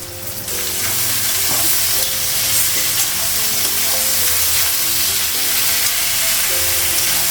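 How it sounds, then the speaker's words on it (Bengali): Eggplant, potato and onion frying in hot oil in a pan, a loud continuous sizzle with stirring scrapes and clatters, close up and uninterrupted, no talking. "বেগুন আলু পেঁয়াজটা একটু ভেজে নেবো, তারপর মশলাগুলো লাগাবো।"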